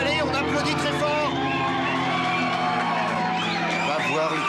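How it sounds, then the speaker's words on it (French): Loud dense crowd at an evening show in a bar setting, cheering, whooping and shouting continuously with a busy babble of voices, steady and close throughout with no gaps. "Allez, messieurs, allez, on applaudit très fort."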